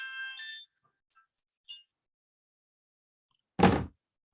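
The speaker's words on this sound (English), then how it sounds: "my phone won't stop ringing" A mobile phone rings in short bursts: a harmonic trill at the start, a brief chirp near the middle, then a louder burst of noisy buzz toward the end, with silence between.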